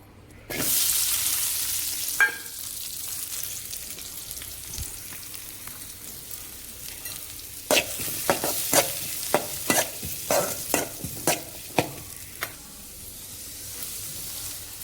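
Onion and curry leaves frying in hot oil for a kori sukka: a loud initial sizzle that settles into steady frying, then a run of rhythmic spatula scrapes and taps against the pan, close up.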